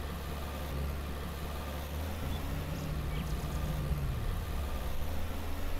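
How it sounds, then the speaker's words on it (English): A tractor engine in the Farmer's Dynasty video game labours while pulling a seed drill, a low, steady drone with a faintly wavering pitch, moderately quiet and continuous. "it really sounds like the tractor is struggling to pull the seed drill"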